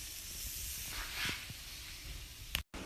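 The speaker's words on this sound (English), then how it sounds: "I'm going to add in some butternut squash noodles to that sauteed garlic" Butternut squash noodles hit a pan of sauteed garlic with a steady broad hiss and sizzle, swelling briefly midway, then ending in a short sharp burst and an abrupt cut.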